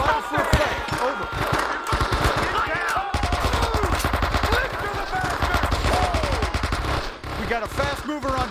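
Sustained automatic gunfire in the Vietnam War video game Men of Valor, Da Nang mission: loud, rapid rattling bursts nearly nonstop with thumps, while soldiers shout orders over the din.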